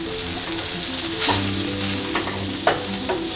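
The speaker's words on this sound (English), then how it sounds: "I'm just going to go in with a few knobs of butter." Butter melts and sizzles steadily in a hot pan with a venison steak, a continuous close frying hiss broken by a few sharper spits and crackles, with no voices.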